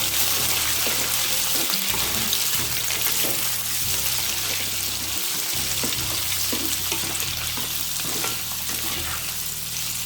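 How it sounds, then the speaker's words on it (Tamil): Potato pieces roast in ghee in a pan, giving off a steady, close crackling sizzle for several seconds, with a few stirring scrapes and clatters mixed in. "இப்போ இந்த உருளைக்கிழங்கை இதில் போட்டு நல்லா ஒரு ரோஸ்ட் பண்ணிப்போம்."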